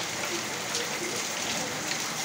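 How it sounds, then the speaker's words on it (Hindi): Steady rain pouring down at a home, a dense, even hiss of drops hitting surfaces that continues without a break. "आज तो बारिश होती है,"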